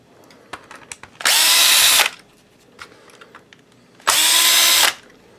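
A DeWalt DCD710 cordless drill/driver backs out T10 coarse-thread screws, two loud bursts of about a second each with a steady whine, separated by quiet handling clicks.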